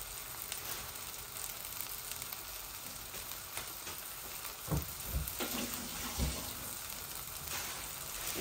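Frozen coriander leaves fry in a pan on the stove, a steady soft sizzle throughout with a few louder scraping stirs near the middle and end.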